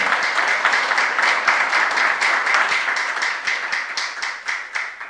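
A church youth congregation clapping together during a sermon, loud, close and continuous, with a brisk, fairly regular rhythm of many hands and no voices over it.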